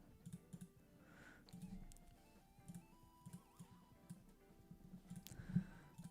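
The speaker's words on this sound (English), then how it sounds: "So if I start typing, it shows up." Soft, scattered keystrokes on a computer keyboard tap out in short irregular bursts, quiet and close, while React code is being written in a live session.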